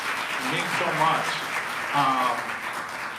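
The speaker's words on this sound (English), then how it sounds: "If we can give him a round of applause for sharing his time with us." An audience at a Juneteenth event applauds in a steady wash of clapping while a person speaks over it.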